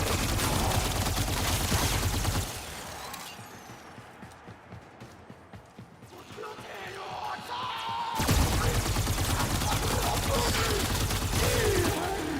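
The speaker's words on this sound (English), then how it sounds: "A long time shooting, too." Sustained automatic gunfire in the video game Warframe, a dense, loud barrage that drops away to quieter clattering mid-way before resuming at full intensity, with a little speech mixed in.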